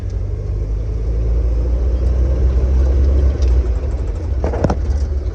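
A restored 1975 International Harvester Scout II rumbles steadily while driving, its low engine drone constant and loud throughout, with a brief clunk of a gear shift near the end.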